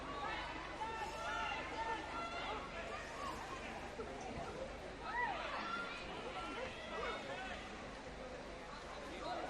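A crowd of spectators murmurs and chatters steadily at Inver Park ahead of a Northern Ireland versus Luxembourg women's World Cup qualifier football match, with overlapping voices forming a continuous babble and a few louder calls rising briefly.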